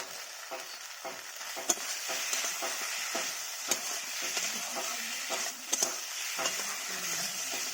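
Ground coriander and cumin masala being stir-fried for a rohu fish curry, a continuous sizzle broken by repeated scraping stirs and clinks of the spoon against the pan, close by and with no talking.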